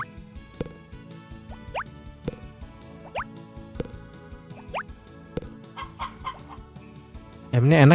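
Chickens cluck in short, chirpy bursts in the Harvest Moon: Back to Nature farming video game, layered over a cheerful looping melody. A louder sound effect closes the clip.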